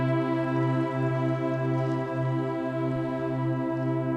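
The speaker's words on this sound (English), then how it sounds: "And now when I play our cassette tape sound, we're also going to hear the water sounds." A cassette-tape-style synth holds a steady tone that pulses in a regular rhythm, layered over a looped water field recording that adds a faint hiss, continuous and even throughout.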